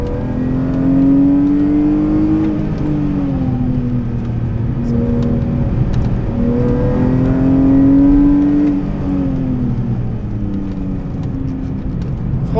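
A car accelerates hard out of a corner on a track, its engine note rising and falling in long revving sweeps, loud and close throughout with no speech.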